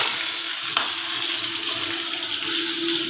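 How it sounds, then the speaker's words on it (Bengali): Pointed gourd frying in oil in a wok, a steady close sizzle that stays constant throughout, with no talking. "বন্ধুরা এই যে পটলটাকে ভেজে নেব"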